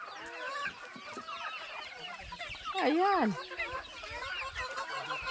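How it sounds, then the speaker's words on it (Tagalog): Native chickens cluck and squawk on a mountainside farm, with one louder, close call rising and falling in the middle, while a person briefly speaks nearby. "Sobrang daming manok dito sa gitna ng bundok."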